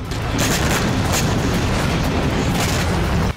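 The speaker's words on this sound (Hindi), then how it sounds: "उत्तरी इजराइल में एक के बाद एक कई धमाके हुए" Heavy explosions in northern Israel boom one after another within a dense, loud, continuous rumble, the blasts blurring together into a roaring wall of noise.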